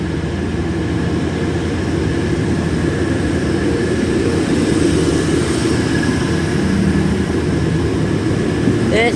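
A train pulls out of York station with a loud, steady rumble of engine and wheels that holds for several seconds amid broad station noise, with no clear speech.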